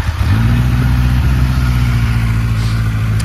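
A warm A2 motorcycle engine catches close by and settles into a loud, steady, low idle with a constant rumble.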